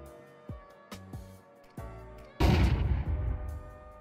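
AK-47 gunfire and other shots in Counter-Strike 2: several isolated sharp reports with ringing tails spaced apart, then a loud burst of rapid fire that fades over the last second and a half.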